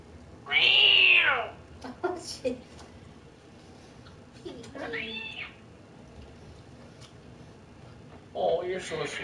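A person imitates a cat, producing three drawn-out, wavering meows spaced several seconds apart over a quiet background with faint other noises.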